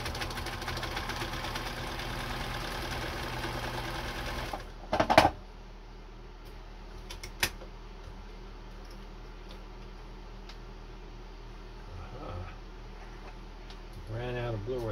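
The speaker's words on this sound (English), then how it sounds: "Great big fat seam in the Levi's. Didn't have any problem. Let's just sew right down that seam for a while." Bernina sewing machine stitching along a thick Levi's denim seam: a steady, close mechanical whir with rapid stitching rhythm for about four seconds, then a sharp clatter and a quieter hum with a few clicks afterward.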